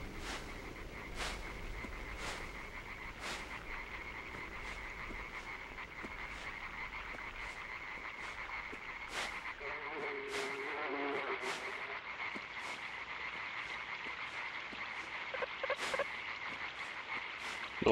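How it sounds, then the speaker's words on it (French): Frogs croaking in a wetland, repeated sharp calls spaced through a faint, steady chorus of insect-like hum, with light rustling or footsteps now and then and no voices. "On va entendre des grenouilles."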